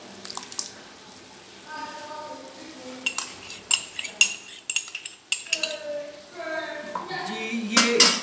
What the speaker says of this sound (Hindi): और उसके साथ ही हम अपना ये दही का एक कप हम ये ऐड कर लेंगे इसमें।